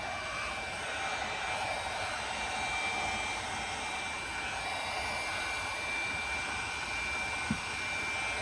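A heat gun runs with a steady, continuous blowing roar while warming paint protection film on the top bumper of a 2024 Ford Mustang, close and even throughout with no talk.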